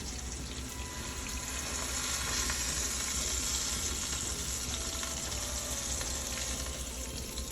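Tri tip roast beef being moved into a Dutch oven sizzles and fries steadily throughout, a loud continuous hiss with faint clattering underneath.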